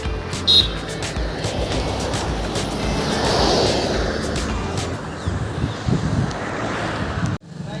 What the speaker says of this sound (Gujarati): રોડે બેઠા છીએ ઠંડો ઠંડો પવન આવે છે